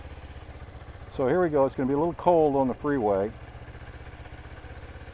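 A Kawasaki Ninja motorcycle idles, a low, steady engine rumble running continuously beneath someone talking close up.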